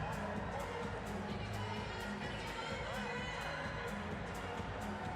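Large arena crowd cheering and shouting at a Paralympic men's sitting volleyball match at London 2012, a steady, dense roar of voices sustained throughout, with occasional whoops and children's shouts rising out of the din.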